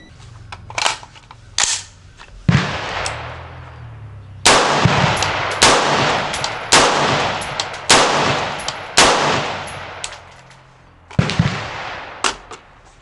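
Rifle shots ring out at an outdoor shooting range, a rhythm of sharp loud reports, some single and some in quick bursts, each trailing a brief echo, with short pauses between strings.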